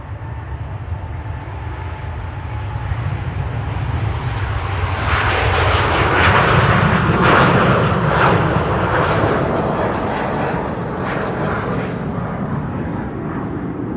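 A nine-year-old aircraft registered PH-BHE climbs away from Amsterdam Schiphol toward Cape Town, its engine roar building to a loud peak at mid-passage before slowly fading, with no voices.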